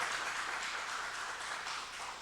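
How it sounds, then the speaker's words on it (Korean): A church congregation claps to welcome visiting guests during a Tuesday prayer service, a soft, even wash of many hands at moderate distance. "큰 박수로 좀 환영해 주시면 감사하겠습니다"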